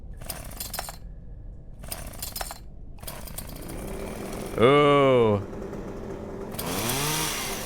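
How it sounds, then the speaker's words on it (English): Video game chainsaw revving in short, harsh bursts with gaps between, then a loud rising whine and a second revving swell near the end, with a brief exclamation from a player. "Make the chainsaw go burr"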